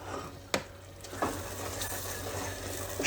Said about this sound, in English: sugar and butter are really warming up. I'm stirring these around